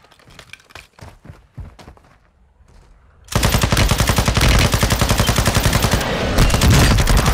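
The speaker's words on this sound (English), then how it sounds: "who the fuck is shooting rockets at me?" Call of Duty: Modern Warfare II combat: scattered single shots and thuds give way to loud, sustained rapid gunfire that runs continuously to the end.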